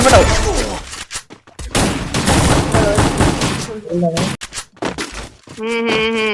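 Rapid gunfire bursts and sharp shots ring out during a competitive battle royale video game tournament match, dense and loud, mixed with excited team voice chat throughout.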